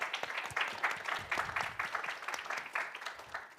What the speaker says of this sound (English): Please join me to welcome Daniel with a round of applause.